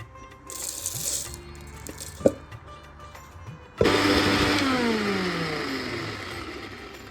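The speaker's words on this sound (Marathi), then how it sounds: "आता आपण वेलची वाटून घेऊया।" A kitchen mixer grinder starts up abruptly partway through, grinding cardamom pods with a little sugar into a fine powder, its loud motor whine settling into a steady high drone after a quieter stretch of faint kitchen noise.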